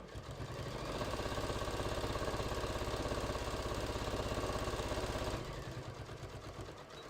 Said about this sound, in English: So sew your bottoms of your pockets first.